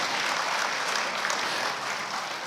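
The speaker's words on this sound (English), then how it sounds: "give her another resounding applause for that job well done" Steady, dense applause from a conference audience at a national non-oil export event, filling the room evenly without pause and with no voices rising above it.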